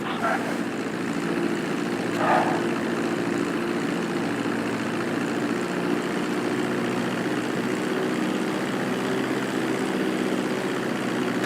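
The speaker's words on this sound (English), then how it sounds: "Be sure to deploy the landing gear before you reach the runway." A plane's engines drone steadily throughout a landing approach in the video game Grand Theft Auto V, a continuous broad engine roar with no break.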